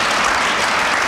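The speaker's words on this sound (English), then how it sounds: "They're applauding out there." An audience claps loudly and densely at a 1979 performance, a brief sustained wash of applause close and full.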